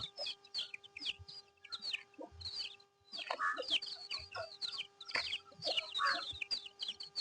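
A rooster clucks repeatedly in short, uneven bursts, moderately close, with other faint farmyard sounds and no talking.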